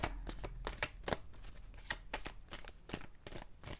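A deck of tarot cards shuffled up close, a series of quick papery riffles and slaps in an uneven rhythm over a few seconds, fairly quiet and without any talk.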